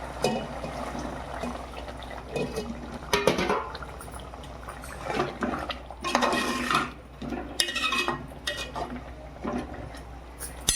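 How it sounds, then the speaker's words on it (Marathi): Hot water is poured and stirred into a pot of spicy mutton curry, giving intermittent splashing and liquid swishing with occasional clinks of a utensil against the pan, moderately close. "थोडं अजून मी गरम पाणी टाकते याच्यात"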